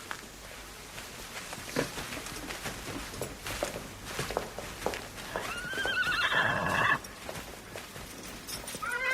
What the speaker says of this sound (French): Pierre, étrille le cheval de Messire Baglioni.